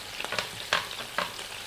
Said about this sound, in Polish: Nie potrzebujemy dużo, trochę tylko smażymy.